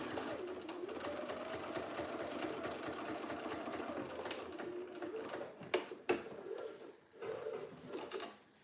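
Sewing machine edge stitching trousers, a steady fast mechanical whirr running close and continuously, then breaking into short stops and restarts with a few clunks near the end.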